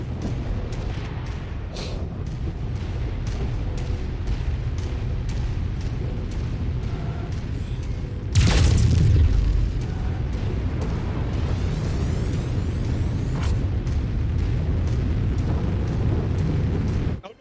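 Booming video game explosions from an enemy ship being blown up, sustained loud rumble with a heavier blast burst near the middle, continuous chaotic battle noise throughout.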